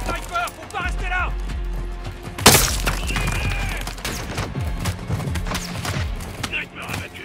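Gunfire and a sniper fight in Call of Duty MW2, with a sharp loud shot near the middle and scattered combat noise under steady voices talking in French.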